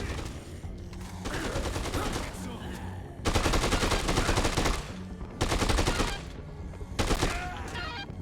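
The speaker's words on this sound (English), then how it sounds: "we're just going to shoot the goons with the LMG" Light machine gun fire in the video game Dead Rising 2, coming as several loud sustained bursts with short gaps between them.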